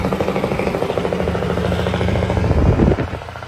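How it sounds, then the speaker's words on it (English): A restored 1992 Mack Superliner truck with an E9 Mack engine runs close by, giving a loud, steady, throbbing diesel rumble that swells slightly near the end. "restored 1992 Superliner Mack. With an E9 Mack engine in it."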